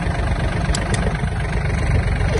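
The engine of a Yanmar F-255 Japanese mini tractor runs steadily in first low gear, a close, loud, even diesel chug with a low throbbing pulse and no talk.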